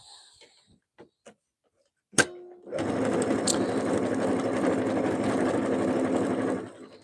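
A sewing machine stitches along a tea towel in one steady, loud continuous run of about four seconds, preceded by a few faint clicks and a sharp knock.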